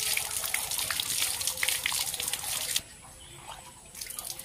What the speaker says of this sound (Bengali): এখন এগুলো এমনি ধুয়ে নিচ্ছি, বাড়িতে গিয়ে আবার ভালো করে ধুতে হবে।